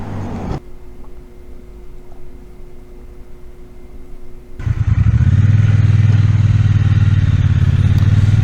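Triumph Bonneville T120 motorcycle fitted with a Puig semi fairing, first idling quietly with wind hiss, then pulling away as the engine rises into a loud, steady riding drone close to the microphone.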